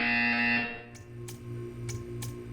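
A buzzer in the video game Portal 2 sounds as a sustained harsh electronic drone, loud for about half a second before fading, followed by several short sharp clicks over a low hum.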